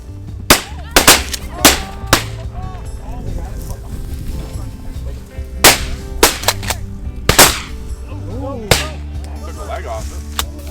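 Shotgun blasts on a Michigan pheasant hunt, several sharp reports spaced irregularly, some close and loud, some in quick pairs, with people talking between the shots.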